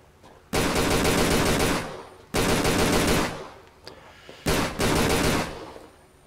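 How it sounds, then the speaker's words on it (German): Automatic gunfire sprayed at a wall in the PC game Tomb Raider: The Angel of Darkness comes in three loud, sustained bursts, each roughly a second and a half long, separated by short gaps with faint clicks. "Gegen die Wand schießen kann er dann schon mal."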